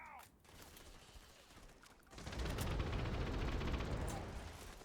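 Quiet burst of rapid gunfire from a close-range quest weapon in a first-person shooter game, a sustained crackling volley after a short lull, with the player talking over it.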